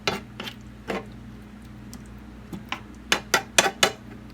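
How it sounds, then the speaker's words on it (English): A spoon knocking against a cooking pot while soup of wild purslane is stirred, a sparse series of sharp metallic clinks that cluster into quick taps near the end, with quiet stretches between. "Get it stirred around in there really good."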